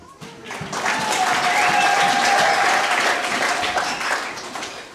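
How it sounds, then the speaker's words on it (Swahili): A congregation at a church worship service bursts into loud, sustained clapping that swells, holds for several seconds and then fades, with a voice faintly audible underneath. "Makofi kwa Yesu"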